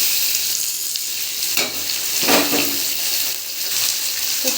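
Chicken pieces hit a pan of onions already fried until browned, giving a steady, close, loud sizzle with a few stirring scrapes and bursts; no voices.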